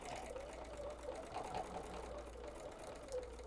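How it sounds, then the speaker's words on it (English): A sewing machine back stitches through fabric on a folded star quilting project, giving a steady mechanical whirring hum that runs throughout with no talking. "So let's back stitch."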